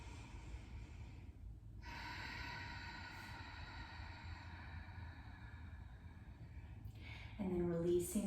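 Slow, deep breaths during a yoga balance pose, soft and close over a steady low room hum, with a long inhale that rises and fades, then a louder, rougher exhale near the end.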